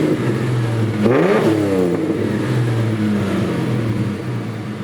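A close Ford Falcon XF engine, fitted with an AU XR6 engine, rumbles steadily, then revs up sharply once and settles back to a loud idle drone.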